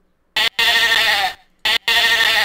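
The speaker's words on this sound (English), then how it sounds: "So there's like sheep," Two bursts of sheep bleating from a soundboard effect, each a loud nasal bleat lasting about a second, back to back with a short gap, no talk over them.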